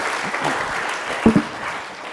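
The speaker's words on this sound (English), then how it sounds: "Oh, yeah, you can clap if you like." Lecture audience applauding at a university talk, a steady even patter of many hands filling the room, with a couple of louder close claps near the middle and no talking.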